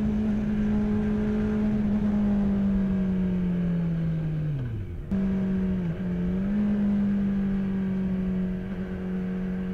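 2018 Kawasaki Z900 motorcycle engine heard while riding, a steady loud drone that drops in pitch as the revs fall, cuts for a gear change, then climbs back up and holds.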